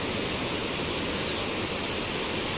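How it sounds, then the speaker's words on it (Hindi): Fast-flowing mountain river on the route to Kedarnath, a loud, steady broadband roar of rushing water filling the whole stretch without a break, close to the microphone, with no voices over it. "बाकी नदी की आवाज़ आपको आ रही होगी कैमरे के माइक में।"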